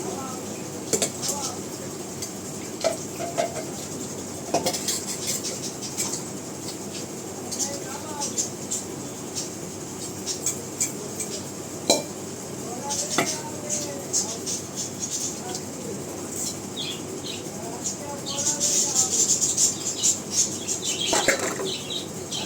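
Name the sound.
washing dishes, pots and pans at a tap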